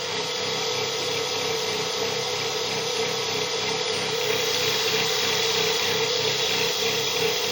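A six-pole generator runs steadily at about 1950 RPM, giving a loud continuous mechanical whine and hum that holds even throughout, close and without speech.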